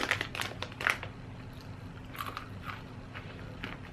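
Crisp bites and crunching of garlic and onion flavored broad beans, a few sharp close crunches early on followed by softer, quieter chewing, with no talking.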